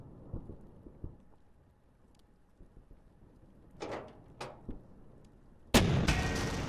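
A tank destroyed with its turret blown off in a WW2 tactical strategy game: scattered distant booms and crackling gunfire, then a sudden loud blast near the end that leaves a rumbling, crackling roar.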